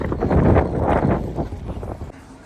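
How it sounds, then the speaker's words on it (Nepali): Cold wind gusting and buffeting a microphone on a chilly railway station platform in Birmingham, a steady rumbling roar that swells and eases without any talk. "चिसो चिसो हावा लागिरहेछ"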